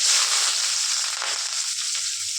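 Onions sauté in hot oil with mustard seeds, green chillies and curry leaves, giving a close, continuous crackling sizzle that fades a little toward the end, with no talk.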